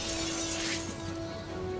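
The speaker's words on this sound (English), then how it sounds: "The door is locked, so the dramatic dive through the glass was necessary." Glass shattering as Batman dives through a window in Batman: Arkham City, a bright crash of breaking panes early on, followed by scattered tinkling debris over a steady low game-ambience hum.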